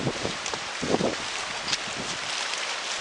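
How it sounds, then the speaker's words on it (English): Strong storm-surge wind buffets the microphone at a wharf during an extremely high tide, a rough, rushing roar with gusty swells and faint sloshing beneath, loud and unbroken. "I can capture the tide and the wind systems"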